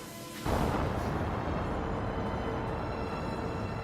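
A NASA Ares rocket lifting off the launch pad on solid fuel, heard as a sudden, loud broadband roar that starts abruptly and then holds steady and powerful with no talk over it.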